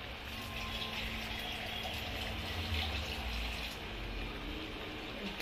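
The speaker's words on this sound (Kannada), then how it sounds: "ನೋಡಿ ನೀರು ಹಾಕ್ತಾ ಇದೀವಿ ಇವಾಗ." Water poured into a pan of biryani gravy made with ground mint paste, a steady soft gushing and trickling that runs unbroken close by, with no talk over it.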